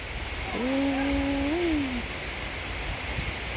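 Steady rain falls during flooding, a constant, even hiss throughout, while a cat gives one clear, drawn-out meow partway through.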